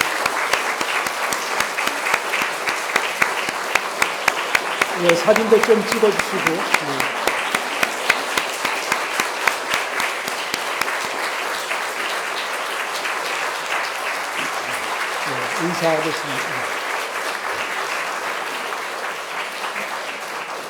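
At a church pastor installation service, the congregation claps steadily, a sustained round of applause under which someone speaks briefly through the sound system.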